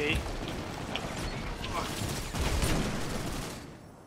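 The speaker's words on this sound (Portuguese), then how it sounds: "Cara não para de atirar, né, velho?" An enemy firing steadily in Destiny 2's Trials of Osiris: a dense, continuous rattle of gunfire that holds for several seconds before cutting off, with a player's voice faintly underneath.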